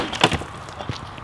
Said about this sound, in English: Let's try the glass breaker here.